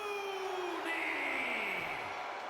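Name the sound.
crowd cheering during wrestler intros in video game WWE 2K25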